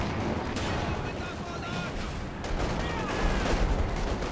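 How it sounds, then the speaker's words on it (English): Tank commander artillery shells land in a WWII real-time strategy battle among Panzer IVs and anti-tank guns, heavy booming impacts rolling through a continuous, dense din of combat, with a voice talking over it. "Got some artillery come in."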